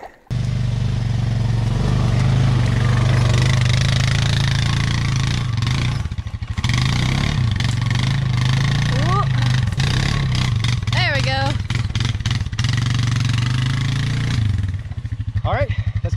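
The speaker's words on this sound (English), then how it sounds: "go get the ATV and be right back" An ATV engine runs steadily and loudly up close on an off-road mountain outing, with a low continuous drone and brief revs, holding nearly the whole clip before easing off at the end.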